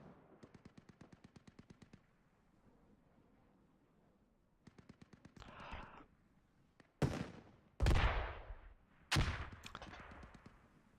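Vehicle-mounted guns fire in Squad on the Kohat map, rapid bursts of automatic fire, some distant and regular, then several loud, close heavy cannon shots with long booming decay, no talk.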